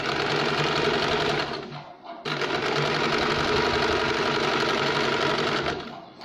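A sewing machine runs steadily along a sleeve seam, loud and close, with a brief stop near the two-second mark before stitching resumes and winds down at the end.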